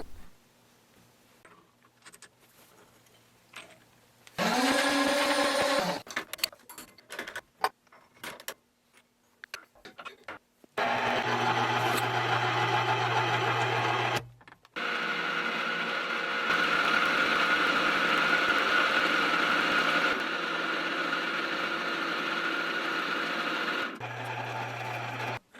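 A machine tool runs in long loud stretches while cutting a flat onto a shaft for a set screw, steady mechanical whirring broken by pauses and short bursts of motor hum.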